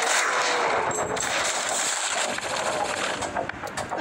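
Gunfire from the mobile shooter game Johnny Trigger: Sniper, dense and continuous, with rapid shots running together into a loud, steady barrage.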